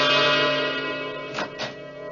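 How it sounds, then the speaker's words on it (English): A doorbell rings in a radio drama with a long, ringing bell-like chime that slowly decays, followed by two faint soft knocks, and no voices. "Doorbell."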